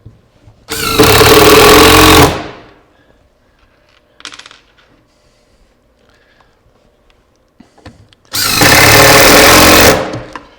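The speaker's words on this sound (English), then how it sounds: "Now we'll come back and we'll just put a couple of screws in each one of our supports." Two long, loud bursts of a power drill or impact driver sinking screws into the supports of a miter saw station, each lasting about a second and a half, separated by a quiet stretch with a brief clatter.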